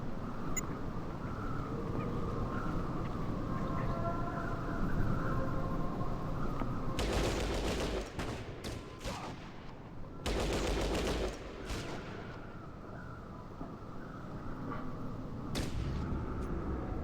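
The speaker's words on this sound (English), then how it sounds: "Too much gunfire." Video game gunfire during a squad firefight, dense bursts of rapid shots and heavier blasts rolling in clusters over a steady background roar, with no talking.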